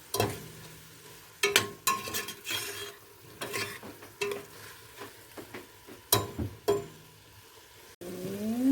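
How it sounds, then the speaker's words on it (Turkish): Peppers and onions sautéing in a pan with a low sizzle beneath repeated sharp scrapes and knocks of a spoon against the pan, near and irregular. "Bu karışımı güzelce kavuracağım."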